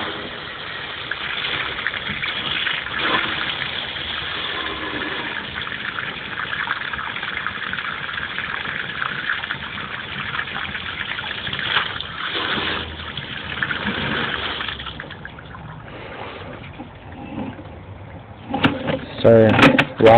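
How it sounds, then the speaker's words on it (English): Water rushes steadily down a drain line, through a riser into HDPE pipe, at a house in Portland, Oregon, for a long stretch: a continuous gushing hiss with a few clunks and knocks near the end. "I'm going to run some water down the line."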